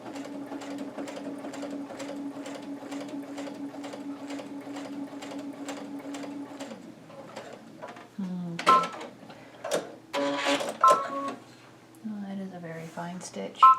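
A sewing machine running a long, firm basting stitch, with a steady close mechanical whir and rapid regular needle thumps that stop, followed by handling clatter and brief talk.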